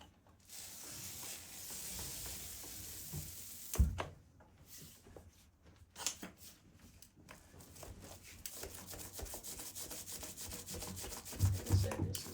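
A 9-inch paint roller putting a first coat of paint on a wall, making a close, steady sticky rubbing and swishing in repeated strokes with brief pauses between passes, no talk.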